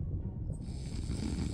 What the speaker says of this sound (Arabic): شخيرة